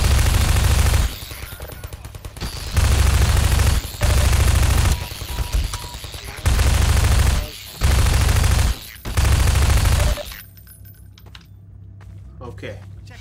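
Bursts of automatic turret fire in Half-Life 2 Episode Two during a frantic antlion fight, loud rapid fusillades coming in repeated blocks of a second or two, separated by brief lulls, with someone talking between them.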